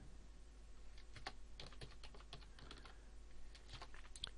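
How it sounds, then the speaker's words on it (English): Quiet, steady clicking of keys on a computer keyboard, a rapid irregular patter of taps with no talking. "I would start typing"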